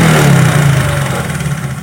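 Carburettor engine during carburettor tuning, revved with the accelerator and then sinking slowly back toward idle, a steady close, loud mid-pitched drone that eases off gradually without any talk.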